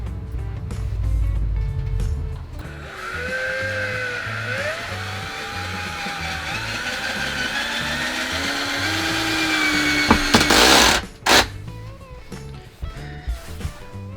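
A power driver runs long screws into a door frame to fit the strike plate of a Nest lock, its whine rising in pitch over several seconds before a few short bursts and clicks, close and loud.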